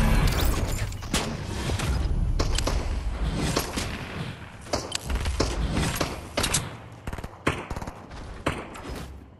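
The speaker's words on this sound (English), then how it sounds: "Oh, so he's shooting at me already." Gunfire in the video game Fortnite, repeated sharp shots and bursts cracking over a loud, busy background of continuous game noise, with no voices.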